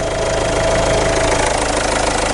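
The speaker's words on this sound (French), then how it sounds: "On va laisser tourner la voiture" Citroën C2 HDi diesel engine idling steadily during a hydrogen decarbonising treatment, a continuous close, loud knocking diesel rumble with no talk over it.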